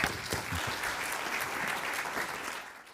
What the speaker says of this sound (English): please give applause to the whole pedal team